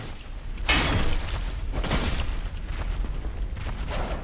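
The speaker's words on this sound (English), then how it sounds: "you hear this heavy thumping, and if you look in that room, you can see a really big monster thumping around in there" A huge monster in the Dark Souls video game thumps heavily around a room, making deep, booming impacts that recur at irregular intervals over a loud, rumbling background.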